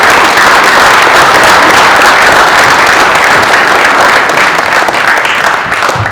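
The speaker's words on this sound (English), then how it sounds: "Let's give another big round of applause for Coach Bill Ellerbee and Coach Noble." Loud, dense applause from an audience honoring basketball coaches Bill Ellerbee and Andre Noble, sustained and close for several seconds before easing slightly at the end.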